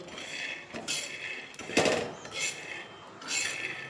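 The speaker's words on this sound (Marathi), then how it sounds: "शेंगदाणे जास्त काही भाजायचे नाही जरा मध्यमच भाजून घेते" A bowl of peanuts dry-roasting to a medium roast in a pan, stirred with rough scraping and rattling strokes that come in short bursts, close and fairly loud, with no voices.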